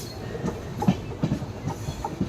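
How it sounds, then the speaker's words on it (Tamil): A train pulling away from a station platform rumbles past close by, its wheels giving a steady rhythmic clickety-clack over the rail joints, with no voices. "ட்ரெயின் நேம்போட தாண்டிடுச்சு"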